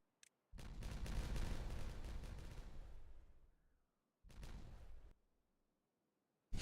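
Two bursts of heavy, rumbling explosions in a video game, the first long and sustained for about three seconds and fading, then a shorter second blast after a brief pause, loud and close.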